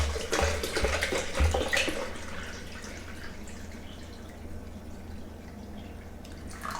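Water pours and splashes into a blender, louder at first and then settling into a softer steady trickle.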